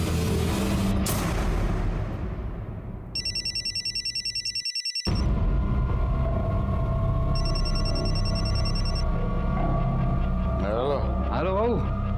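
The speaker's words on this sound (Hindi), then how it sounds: "इतनी रात को क्यों फोन किया रे?" A telephone rings with an incoming call late at night in a crime drama scene: two bursts of electronic ringing over a steady low hum, with a brief gap of near silence between them.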